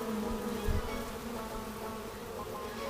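Honey bees buzz steadily around a hive fitted with honey supers, a close, continuous droning hum with no voices.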